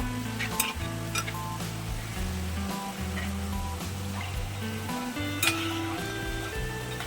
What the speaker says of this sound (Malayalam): എണ്ണ നല്ലതുപോലെ ചൂടായതിന് ശേഷം മാത്രം ചക്ക ഇട്ട് കൊടുക്കാവൂ.